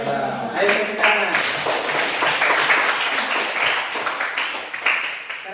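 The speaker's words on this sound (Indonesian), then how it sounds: "Ayo tepuk tangan." A classroom audience claps after a group finishes its presentation, a dense burst of applause running for several seconds with voices mixed in.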